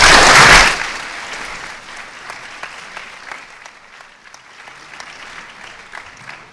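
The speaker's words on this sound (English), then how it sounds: "Could we please give them a round of applause?" Audience applause at a presidential primary debate, a loud burst of clapping at the start that quickly drops to a thinner scattering of claps and crowd murmur, fairly close.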